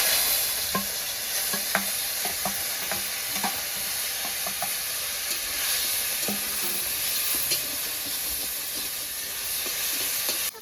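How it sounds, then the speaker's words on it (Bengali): Shrimp fry in hot oil with a constant close sizzle, dotted with sharp pops and light spatula taps throughout. "তেলটা গরম হয়ে গেছে এবার চিংড়ি মাছগুলো ভেজে নেব"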